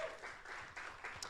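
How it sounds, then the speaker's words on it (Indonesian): A church congregation claps during a worship service, a brief, faint patter of many hands heard from a distance. "Mana dong tepuk tangannya buat Tuhan Yesus"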